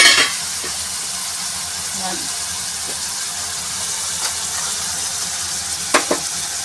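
Sabzi made with galka (sponge gourd) sizzles loudly and steadily in a pan, with a few scraping strokes of a spoon against the metal and a brief clack near the end.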